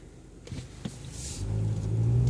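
A 2015 Hyundai Tucson engine pulls away from a stop: a couple of soft knocks, then a low drone that grows steadily louder as the car drives off, heard from inside with no talking.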